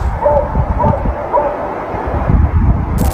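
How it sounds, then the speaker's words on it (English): A dog barks a few times at a distance over steady rumbling wind noise, the barks fairly faint and spaced apart. "A dog can be heard, along with another source making loud, unfamiliar sounds"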